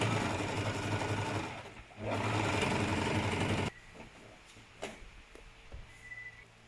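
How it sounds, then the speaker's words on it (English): A sewing machine stitches a reusable fabric mask in two loud, steady runs, with a short pause between them. The motor then stops, leaving quieter handling clicks and thumps. "then we have to sew this again"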